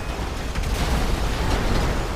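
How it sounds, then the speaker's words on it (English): Rumbling explosions in the video game GTA 5 during a police patrol, a continuous broadband roar that swells after the first half-second and holds steady without speech. "I hear explosions"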